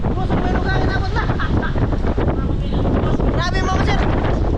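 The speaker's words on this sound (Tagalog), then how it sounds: "lumakas yung hangin na nandito na kami sa Isla Banbanon" Strong wind at sea by Isla Banbanon, an island, with big waves, roars as a constant loud, broadband rush of gusts buffeting the microphone over the churn of surf.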